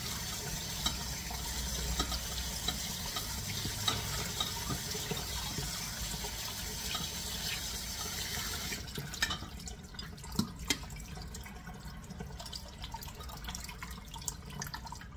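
Cabbage rinsed under a running kitchen tap, a continuous splashing water stream that drops off partway, leaving scattered drips and small clatters; no talking.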